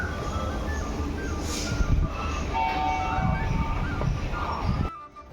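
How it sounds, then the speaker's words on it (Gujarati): A passing train rumbles and clatters steadily at close range near a level crossing, with wheel screech and a brief high squeal partway through, the noise cutting off abruptly near the end. "હા, ટ્રેન છે."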